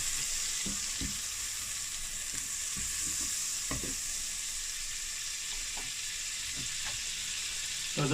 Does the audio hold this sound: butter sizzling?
yes